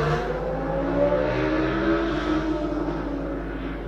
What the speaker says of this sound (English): That's Lucinda driving away from Aaron.